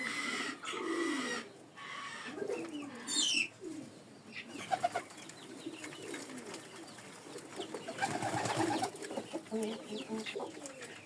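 Pigeons, including a miniature German Modena, coo and rumble close by, some soft clucking mixed in, in a continuous chorus with a few louder bursts; a person's voice is faintly audible underneath.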